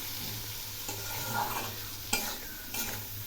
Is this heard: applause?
no